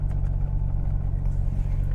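Porsche 911 Turbo S engine idling just after starting, a steady low rumble with a firm pulsing drone heard from inside the car, with no voices.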